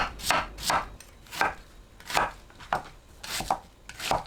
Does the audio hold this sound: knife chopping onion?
yes